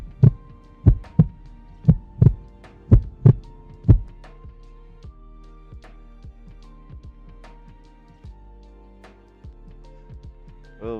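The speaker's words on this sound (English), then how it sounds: "Feeling that heartbeat." A steady heartbeat, loud and close, with about eight strong thumping beats in an even rhythm over the first four seconds, then fading to faint soft pulses under a low hum.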